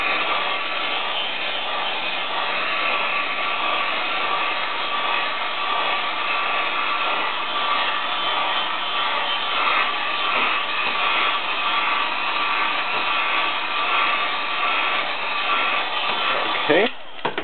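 A heat gun blows steadily on an Xbox 360 motherboard during a reflow repair for the red ring of death, giving a continuous, even broadband whoosh for the whole stretch that cuts off abruptly at the very end.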